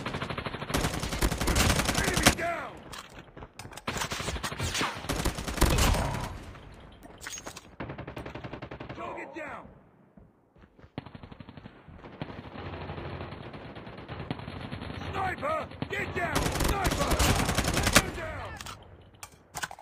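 Call of Duty gunfire comes in loud bursts of machine-gun and rifle shots, separated by short quiet gaps, with a brief lull in the middle and heavier firing again toward the end.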